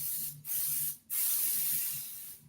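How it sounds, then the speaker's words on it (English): Light spray bursts from a sprayer held about six inches from a carving surface, three sustained hissing bursts separated by brief pauses, close and steady, with no talking. "I just want a very light spray."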